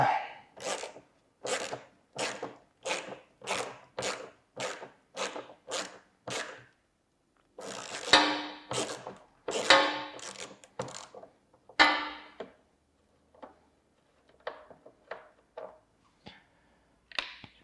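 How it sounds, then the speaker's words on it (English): On a C7 Corvette Z06, the 7mm bolt holding a mud flap is worked loose. Short, evenly spaced bursts of rasping clicks come up close in a quick series, then pause before a few scattered, fainter scrapes. "the last thing to take off here is the 7mm bolt that is holding this mud flap in"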